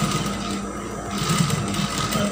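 A sewing machine stitches a 3D cloth face mask, a steady, close mechanical whirring hum with rapid needle chatter that runs without a break.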